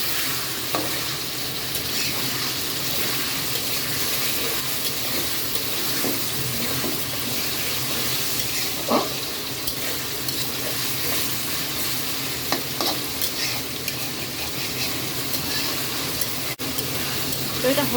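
Chicken breast pieces sizzle in hot oil while being stirred, a long even frying hiss with scattered clinks and scrapes of a utensil, moderately quiet throughout.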